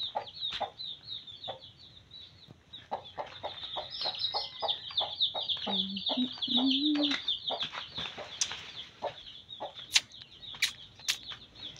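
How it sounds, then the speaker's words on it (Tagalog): A hen clucks repeatedly up close at a home, short soft calls in an uneven rhythm with a few sharp clicks and rustles mixed in. "And then this is my hen."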